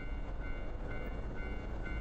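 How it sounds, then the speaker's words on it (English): A train rumbles steadily past a railroad crossing in a video game, a dense low mechanical roar at moderate level with faint tonal ringing above, alone without talk. "I hear the sound of the railroad crossing."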